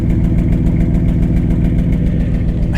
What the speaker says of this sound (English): It sounds like it's got a pretty healthy exhaust right here.